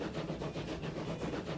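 Steam locomotive chugging in Transport Fever 2, a steady low rumbling engine sound with faint rhythmic pulses, quiet and continuous with no voices.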